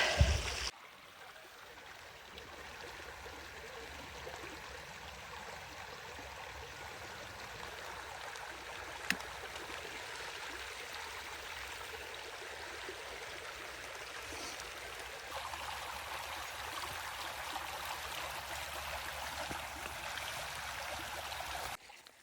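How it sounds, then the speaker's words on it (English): A creek flows steadily past fence posts on a farm, a continuous broadband rush and trickle heard from nearby at moderate level, with no talking. "Hopefully, the creek doesn't flood more than that."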